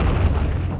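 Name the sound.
artillery shelling with rockets and shells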